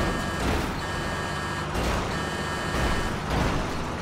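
Tractor horn in GTA Online, pressed in a few repeated bursts: a steady, buzzy electronic tone that sounds, briefly stops, then sounds again over a constant background of game noise.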